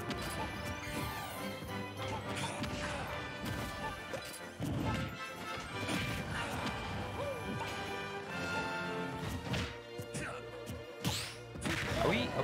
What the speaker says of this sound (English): Banjo smashes his buddy into the ground in the side smash